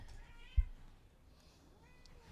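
A cat gives a couple of faint, short meows indoors, with a single soft thump early on and quiet room noise in between.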